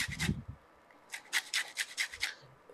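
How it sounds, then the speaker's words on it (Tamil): Lemon peel being grated for prawn pulao: a brief scrape, a pause, then a run of quick rasping strokes against the grater, close up and fairly quiet. "இந்த எலுமிச்சம்பழத்துடைய தோல் இருக்கு இல்லையா, அதையும் என்ன செய்யுங்கன்னா லைட்டாக அப்படியே கிரேட் பண்ணிடுங்க"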